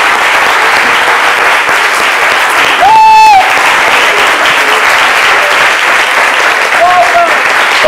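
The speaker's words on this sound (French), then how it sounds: "vous allez donc me suivre sur les applaudissements du public de CMidi." Studio audience of the C'midi show applauding in a steady, loud, continuous wash of clapping throughout, with a brief whistle-like tone and faint voices underneath.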